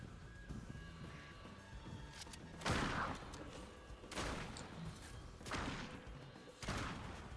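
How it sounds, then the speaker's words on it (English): Fortnite gunfire: several short bursts of shots spread across the clip, fairly quiet and distant over a constant game background, with no talk. "Everyone's shooting upstairs at Queen."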